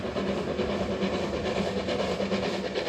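A narrow-gauge steam train in South America approaching a hill rumbles steadily along with a constant mechanical roar and hiss, an unbroken loud chugging drone with no voices.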